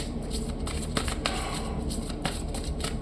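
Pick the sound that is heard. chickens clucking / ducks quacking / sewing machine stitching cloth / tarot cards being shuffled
tarot cards being shuffled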